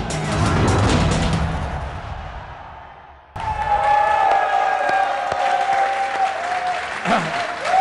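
Loud applause rings out and gradually fades over a few seconds before being cut off by a sustained tonal sound.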